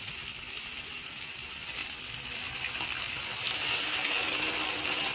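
A steady wash of liquid pours as mung beans with their cooking liquid are tipped into a pot of sautéed base, a continuous close gushing hiss that holds even and swells slightly toward the end, with no voices.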